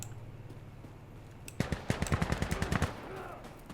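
Rapid bursts of gunfire crackle from a distance in Insurgency: Sandstorm, a sharp string of shots breaking a low background hum.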